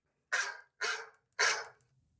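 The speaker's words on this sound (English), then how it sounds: "when the dog barks, that's when we move on to the next film" Three short dog barks in quick succession, close and clear with brief gaps, used as a timer cue during a podcast about serial killer films.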